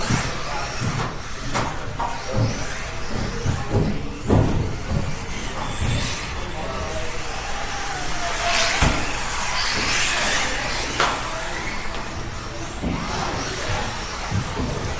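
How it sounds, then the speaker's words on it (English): Radio-controlled race cars buzz and whine around a track with switchbacks, engines droning continuously with passing surges, under a faint announcer. "Maroon car coming down through the switchbacks"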